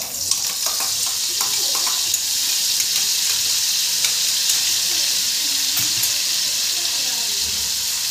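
A ground spice paste sautéing in hot oil with cumin, mustard seeds and curry leaves for kadhi, giving a loud, continuous hiss and sizzle with occasional stirring scrapes.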